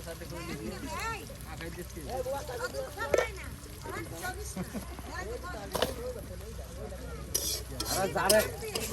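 Chilies, onion and garlic frying together with ground spices in a pot, a busy sizzle with a spoon stirring and scraping throughout, while people talk over it nearby.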